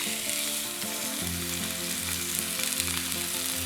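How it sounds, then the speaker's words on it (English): A pepper-coated steak sears in a smoking-hot pan, a loud, dense, continuous sizzle and spatter heard close up without any talk. "We can start searing the steak off"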